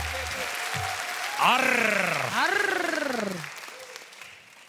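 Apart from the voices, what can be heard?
audience applause for the jury at a comedy show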